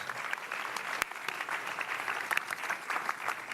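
Audience at a town hall meeting applauding steadily, a dense, even wash of clapping from a sizeable crowd that holds for the whole stretch, with a few sharper claps standing out near the front.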